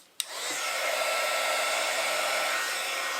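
A heat embossing tool switches on with a click and blows a steady, even whoosh of hot air over embossing powder on a handmade woodland card, continuous and close with no talk.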